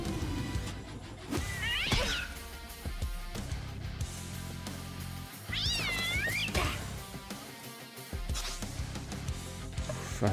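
Cats meow repeatedly in the Maliki video game, two or three clear rising yowls standing out over a steady game music bed, fairly loud and close, with no talking.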